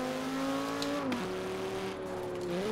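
An Audi RS6 V10 twin-turbo drift build in Forza Horizon 4 holds a high, steady engine tone, then drops sharply in pitch on an upshift and settles before climbing again, loud and alone.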